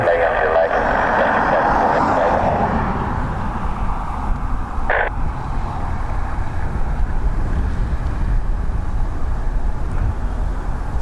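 A Boeing 787-9 Dreamliner passes at Dublin Airport, a steady broadband jet roar that holds loud and even throughout, with faint voices beneath it.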